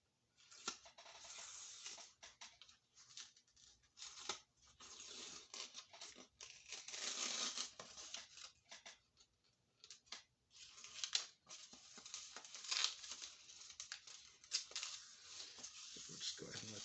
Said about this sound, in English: Just tearing the paper off.